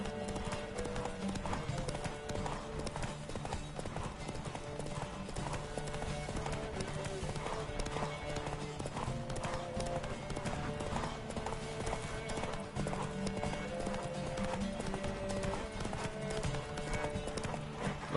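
Horse hooves gallop in The Witcher 3: Wild Hunt, a fast, steady clip-clop rhythm running throughout under game sounds, with faint background voices.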